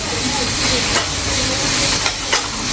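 Beans and carrots sauté in a hot pan, giving a steady close sizzle and hiss with a few brief scraping stirs and no talking.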